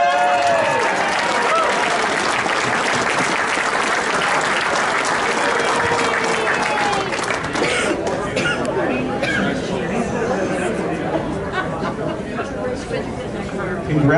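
A crowd at a 2018 track racing awards banquet applauds loudly and steadily for the whole stretch, with chatter mixed in and the clapping thinning slightly toward the end.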